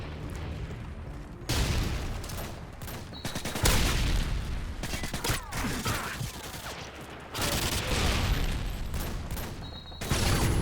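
Grenade launcher tubes fire in Modern Warfare 2 on the Wasteland map, a chaotic run of loud booming blasts and gunfire bursts that crowd the whole stretch with little pause.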